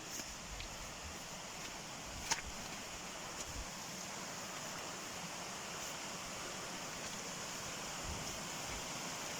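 A small natural waterfall pours into a stream, giving a constant, fairly close rushing roar, with a brief sharp tap partway through and no talking.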